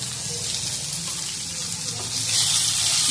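Tomato goes into a pan of frying ginger, garlic and onion, giving a steady close sizzle that grows louder toward the end.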